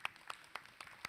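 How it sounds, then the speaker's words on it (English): A single person clapping slowly after a glassblowing demonstration, five sharp, evenly spaced claps about a quarter second apart, fairly faint in a quiet room. "I'll clap for that"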